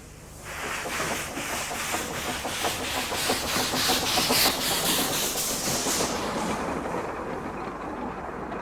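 The Groudle Glen Railway steam locomotive Sea Lion departs, its loud rhythmic chuffing beats and clattering carriage wheels steady and close, with no voices over them.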